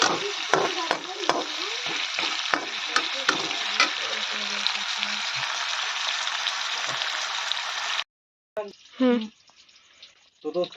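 Loud crackling sizzle of lentils being tempered in hot oil, spitting and popping for several seconds, then it cuts off and a voice talks briefly.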